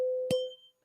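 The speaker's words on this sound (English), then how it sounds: "Let me do a little closing bell for you." A tuning fork is struck once as a closing bell, giving a sharp tap and then a pure, steady ring that fades to silence within a second.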